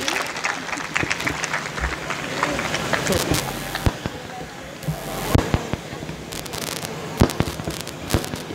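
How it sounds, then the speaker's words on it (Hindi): Applause at the inauguration of a spiritual center in Pallavpuram, Meerut, with scattered sharp claps and bursts rising and falling over crowd noise, voices audible underneath. "जोरदार तालियां बजाए"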